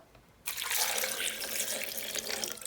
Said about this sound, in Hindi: आधा कप से थोड़ा सा ज़्यादा हम लोग इसके अंदर पानी ऐड करेंगे